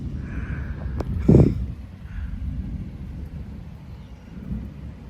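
Thunder cracks once during a thunderstorm with strong wind gusts in a Frisco, Texas backyard, a sharp low boom that fades into a steady background of wind and rain.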